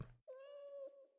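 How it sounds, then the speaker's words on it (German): A single clear cat meow from the fantasy role-playing game Baldur's Gate Enhanced Edition, drawn out for nearly a second and heard alone after a brief soft sound. "Gut, Katzen, Katzen, Katzen."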